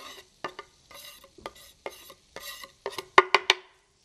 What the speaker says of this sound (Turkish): Onu yavaş yavaş kavuralım.